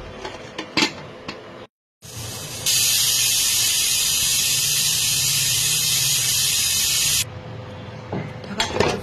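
A pressure cooker cooking daliya gives one long, loud, steady hiss of escaping steam after a brief silent gap, with kitchen clatter of pots and utensils before and after. Close and dominant, with no talk.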